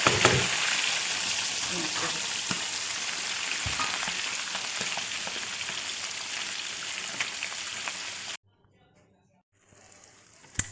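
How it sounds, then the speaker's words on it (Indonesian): Eel seasoned with salt, coriander and garlic frying in a pan of hot oil, a loud dense sizzle with crackles that runs steadily for about eight seconds, then cuts out to near silence before a faint return. "Kira-kira 10 menit baru kita goreng."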